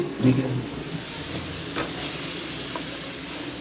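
Food fries in a pan while being stirred: a continuous close sizzle with faint scraping and a brief thump near the start, and no clear speech.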